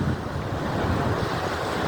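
Sea surf rolls onto a beach at Patuartek, a loud, continuous wash of waves mixed with heavy wind buffeting close by.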